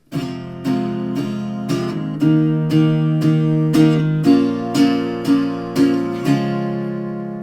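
An acoustic guitar strums the final verse of a song, with about a dozen evenly spaced chord strokes ringing clearly, the last one left to sustain.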